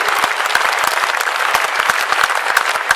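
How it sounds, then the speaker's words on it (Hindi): Audience applause at a Hindi poetry gathering (kavi sammelan) on New Year's Eve, loud and close, with sharp individual claps standing out from the steady crowd clapping. "एक बार जोरदार तालियां बजाकर आप खुद को अपने उत्सव में सम्मिलित कीजिए"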